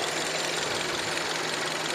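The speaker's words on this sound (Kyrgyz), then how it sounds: "Мотор жагы идеальный иштеп турат." Kia Rio car engine idling with the hood open, a steady close mechanical hum with a faint rhythmic tick, continuous and unbroken with no talk.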